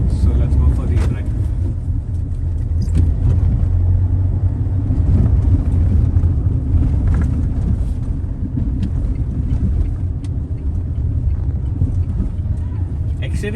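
A Mahindra XUV500 W10 SUV cruises along, its engine and road noise forming a steady low cabin rumble throughout, with someone talking over it.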